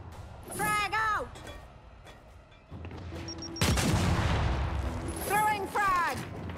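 A frag grenade thrown and bursting in the video game Gears 5, with a sudden loud blast and rumbling aftermath in the middle, surrounded by shouted voices and scattered gunfire.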